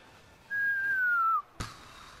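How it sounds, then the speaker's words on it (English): A single loud, sustained whistle with a slowly falling pitch lasts just under a second, followed by a sharp burst of noise, heard during a Star Wars Battlefront gaming session. "Sorry about that loud whistle."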